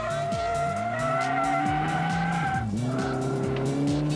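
BMW M3 E30 track car driven on a race circuit, its engine revving up and down through several gear changes while tires squeal in drawn-out skids, loud and close.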